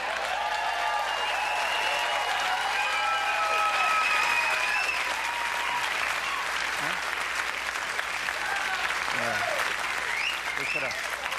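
A television studio audience applauds loudly and continuously for several seconds, with faint voices and cheers threaded through the clapping.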